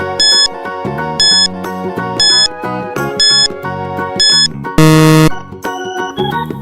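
A quiz countdown timer plays a repeating sequence of loud electronic beeps and tones in a steady rhythm, ending in a long buzzer-like blast near the end.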